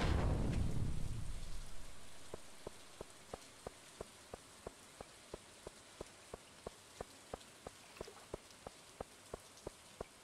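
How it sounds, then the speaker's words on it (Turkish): Heavy summer rain in the Stardew Valley video game falls as a steady hiss, with a loud burst at the start easing into an even downpour, while regular ticking drips repeat in the background. "Yaz yağmuru fena şiddetli vurdu."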